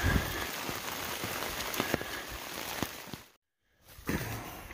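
Steady rain pattering on surfaces close by on the Appalachian Trail between Winding Stair Gap and Wayah Shelter, with scattered louder drops, broken by a brief silence near the end before resuming.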